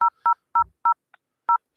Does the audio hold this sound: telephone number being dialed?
yes